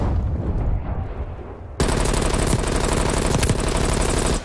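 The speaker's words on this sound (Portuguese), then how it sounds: "Muito tiro vindo pra cima de mim" Bursts of rapid gunfire in the video game Call of Duty: Cold War crackle, then a dense, continuous barrage of shots rattles on loudly without pause.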